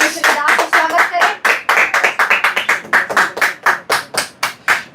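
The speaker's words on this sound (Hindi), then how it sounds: "जोरदार ताली बजाएं, परमेश्वर के दास का स्वागत करें।" A church congregation at a prayer hall claps loudly and steadily in a dense burst of many hands, welcoming a preacher, with applause filling the whole stretch close and strong.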